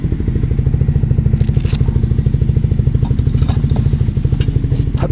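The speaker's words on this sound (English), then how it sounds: "Let's leave the engine on for a little bit, just to give it some" A Triumph Scrambler 400X motorcycle idling after a hard cold start, its engine thumping in a fast, even rhythm, loud and close with a few faint clicks and rattles on top.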